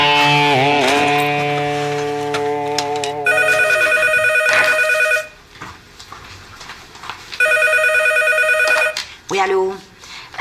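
A telephone bell rings in two long bursts separated by a pause, loud and close, with voices and other sounds around it.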